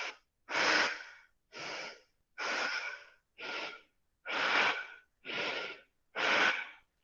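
Forceful Bhastrika yoga breathing, the belly pumping in and out, gives eight loud close rhythmic breaths, each a rough rushing blast of about half a second separated by short silences, with no talk.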